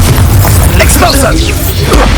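A spell blast from the Hogwarts Legacy video game, a loud, dense booming burst that fills the short clip under continuous game noise.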